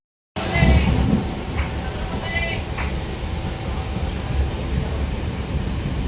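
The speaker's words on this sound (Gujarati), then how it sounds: "આપણે હાલ ટિમ્બર રોડથી રેલવેમાં બેઠા છીએ" A passenger train rolls along the rails near the Mahisagar river between Timba Road and Panchmahal in Gujarat, a loud, steady rumble of wheels and carriage noise with faint rhythmic clatter carrying on throughout.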